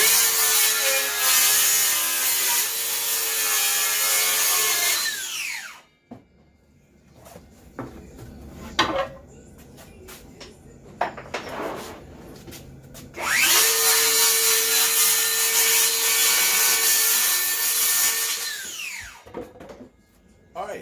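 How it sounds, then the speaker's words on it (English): A 2-horsepower bandsaw cuts wood blanks for handcrafted sports racks, with two long, loud, whining cuts close by and a quieter stretch of scattered knocks and shuffling between them. "Next thing I got to do is cut it on the bandsaw."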